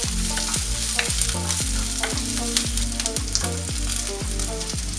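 Chopped shallots, green chillies and curry leaves sizzle and fry in a pan for fish molee, a steady close crackle with repeated stirring scrapes in a regular rhythm, no voices.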